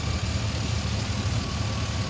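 A 2006 Chevy Silverado 3500HD pickup engine idles steadily, a low even rumble held at a constant level with no revving and no voices.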